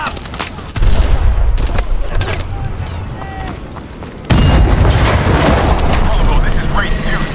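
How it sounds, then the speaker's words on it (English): Two heavy explosions burst in during Call of Duty: Advanced Warfare gameplay, each leaving a loud, sustained rumble with crackling, gunfire-like noise through the rest. "Pressure explosion."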